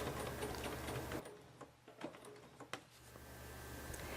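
Sewing machine running a quilting stitch along a Baptist Fan template line, fairly quiet, with a steady mechanical whir that pauses briefly, giving a few ticks, before it resumes.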